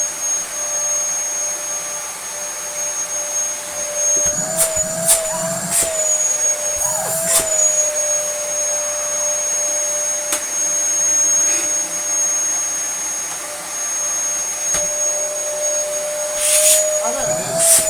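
Dyson vacuum cleaner running with a loud, steady whine and a constant high tone, with clicks and handling knocks breaking in now and then over the drone.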